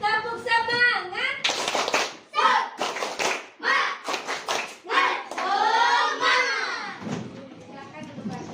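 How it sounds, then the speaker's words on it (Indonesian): A class of children performs a rhythmic spirit clap, bursts of sharp clapping in patterned groups alternating with a teacher's voice and children chanting along, close and lively. "Tepuk semangat."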